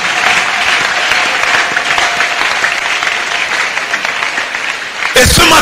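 Sustained applause from a church congregation acclaiming God's power during a sermon, steady and dense. A speaking voice rises above it, and the applause cuts off abruptly at the very end.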